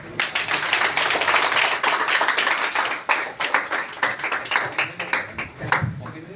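A seated audience at a product presentation claps for a guest, a quick irregular burst of hand claps that thins out toward the end, close and fairly loud with little talk.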